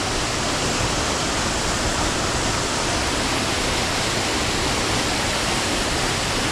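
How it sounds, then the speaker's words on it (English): Steady roaring rush of a rain-swollen waterfall at Stainforth crashing into a splash pool, a dense constant wash of water noise with no pauses. "you can actually see the water coming down to the splash pool"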